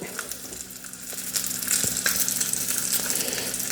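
Bacon sizzles and crackles steadily on a non-stick griddle, a close, continuous frying hiss with small pops that swells slightly louder midway, no voices.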